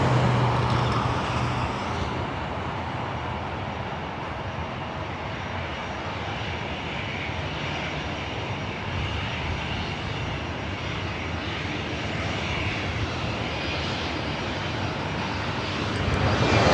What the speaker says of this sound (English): This flight heading to Denver, flight 2004, this A319.